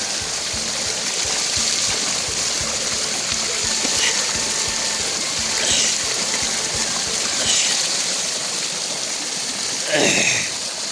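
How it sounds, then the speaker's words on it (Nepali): Water from a spring runs steadily along a trail in a continuous rushing wash, with a few faint higher calls and brief noises drifting over the flow. "बोजोभित्रबाट चाहिँ पानी बगिरहेको छ"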